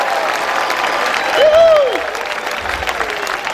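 A crowd applauds at a sapukai tribute to Quemil Yambay, a short burst of clapping with a brief rising tone over it, while voices speak.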